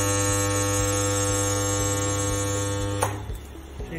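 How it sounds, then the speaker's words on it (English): Pneumatic ring butt welder joining a 16mm steel ring, giving a steady loud electrical hum and buzz with strong tonal lines, then a sharp crackling burst as the weld fires, followed by a lower, uneven hum. "then press the push button for welding"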